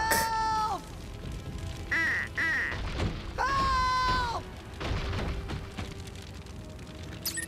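Cartoon ducks in an animated show quack in a few loud, close bursts, with short gaps and background effects between them.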